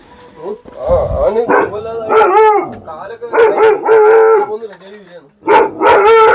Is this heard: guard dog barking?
yes